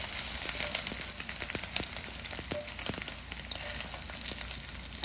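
Sausages fry in a pan with a continuous crackling sizzle and scattered sharp pops, close and moderately loud throughout.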